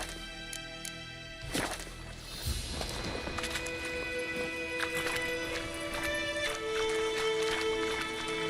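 A horse gallops in the video game The Witcher 3, with steady hoofbeats building after a sharp start, under tonal game music and ambience. Brief speech is also present.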